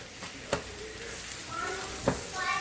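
Rice tipped into a hot frying pan with egg for egg fried rice, sizzling and hissing close up, with a couple of sharp spatula clacks against the pan as it is stirred.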